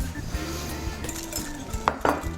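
Shrimp stuffing with fresh dill being mixed in a bowl, with soft scraping and a couple of sharp clinks of a utensil against the dish over steady background hum.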